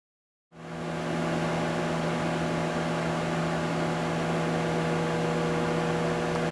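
Steady microwave oven hum while a peanut brittle mixture heats inside, a constant close drone with a strong low tone that starts abruptly after a brief silence and runs on evenly, with no talking.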